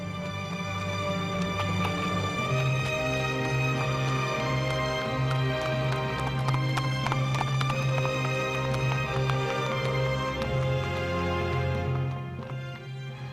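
Horses clip-clopping in a steady patter of hoofbeats, from Ingush horsemen riding in mountain country, running continuously under a dense, loud tonal backdrop with no clear talk.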